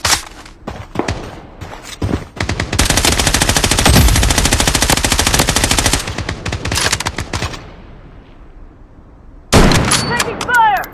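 Sustained automatic gunfire from the Bloodstrike video game, a dense rapid burst of shots lasting several seconds, loud and close, followed by a pause and then another sharp blast of shooting.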